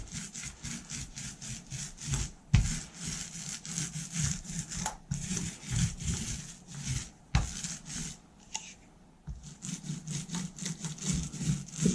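Paint roller rolling coats over a drywall patch, a steady rhythmic rasping with repeated back-and-forth strokes, close and continuous with brief pauses between passes.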